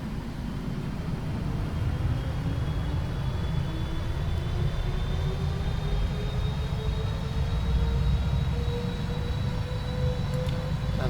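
Airliner jet engines on a DHL cargo jet in a flight simulator spool up steadily before takeoff, a loud continuous roar with a slowly rising whine that holds throughout.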